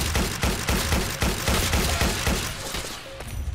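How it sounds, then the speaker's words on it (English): Rapid gunfire in the Roblox game Entrenched crackles in a dense, fast burst of repeated shots, loud and close, then thins out toward the end. "I'm being shot at"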